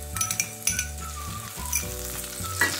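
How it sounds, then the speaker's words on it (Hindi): Washed rice frying in melted ghee for coconut kheer, a steady close sizzle with a few clinks and stirring scrapes from the pan throughout, no talking. "हल्का सा फ्राई कर लूंगी, चावल हल्का सा फ्राई कर लिया।"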